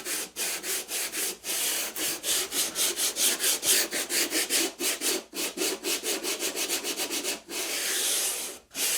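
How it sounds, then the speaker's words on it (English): Sandpaper is rubbed by hand over a wooden display case rebate, producing loud, rhythmic back-and-forth scratching strokes in a steady run with brief gaps and one longer stroke near the end. "what I'll then just do is get a bit of sandpaper to finish that off"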